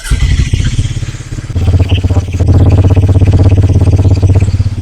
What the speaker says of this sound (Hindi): ये आपका इग्निशन हो गया, ये आपका स्टार्ट हो गया